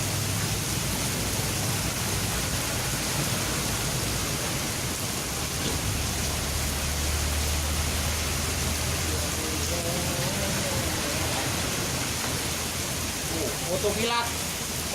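Steady broadband rain pours down continuously at close range, loud and even throughout, with faint voices briefly audible near the end.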